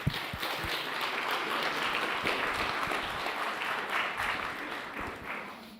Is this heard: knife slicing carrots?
no